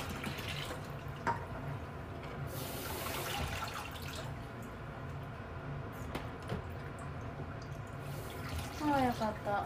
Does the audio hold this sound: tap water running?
yes